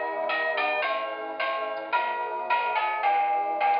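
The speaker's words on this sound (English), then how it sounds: "plays one of 8 different Christmas songs. You never know exactly what you're going to get." A wireless doorbell plays a Christmas song in electronic chime tones, a bright, bell-like melody of clear ringing notes in a steady tune with no voices.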